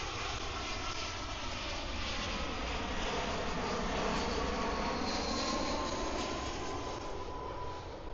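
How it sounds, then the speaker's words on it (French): A steady, loud jet engine roar from an airplane arriving low over Chaweng Beach on Koh Samui, a continuous rumble that swells slightly midway and holds with no talk. "vous pouvez voir un avion qui est en train d'arriver"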